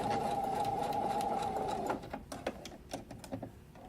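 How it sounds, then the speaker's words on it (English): A sewing machine runs a straight-stitch seam on swimsuit fabric, a steady fast whirring buzz for about two seconds, then stopping into scattered clicks and handling noises. "we're going to sew that together just with a regular straight stitch on machine"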